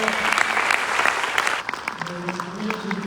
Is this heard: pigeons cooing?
no